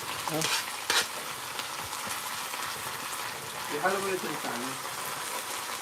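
Shrimp paste (alamang) for Bicol Express frying in a pan, a steady close sizzle with stirring scrapes and a few brief voices over it.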